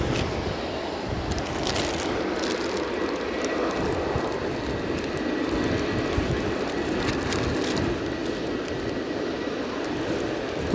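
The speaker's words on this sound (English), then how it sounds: "British Airways next to go. And that is an" British Airways Airbus A320 taking off for Heathrow from Edinburgh Airport in strong gusty wind, a steady loud jet roar holding evenly throughout with broadband rumble and wind buffeting, no voices.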